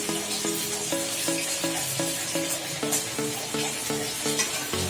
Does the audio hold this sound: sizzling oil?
yes